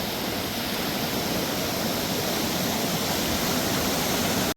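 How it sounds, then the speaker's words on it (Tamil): Water flows down from the hills through forest in Muthaiyankattu, a loud, dense, continuous rush like a torrent or waterfall that fills the whole stretch and then cuts off abruptly. "மலைகளுக்காக தண்ணி போகிறது இவ்வளோ ஆசையாக இருக்கு பார்க்க"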